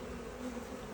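Honey bees hum in a steady, low, faint drone at an open hive during a swarm transfer from a nuc into a ten-frame box.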